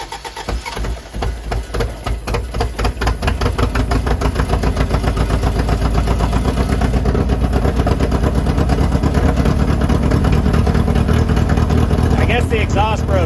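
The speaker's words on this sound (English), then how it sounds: "The exhaust broke. It wasn't this loud when he started it earlier." A Toyota Corolla TE51, parked for 31 years, runs loudly through a broken exhaust, a rough, steady engine roar that continues throughout with faint voices in the background.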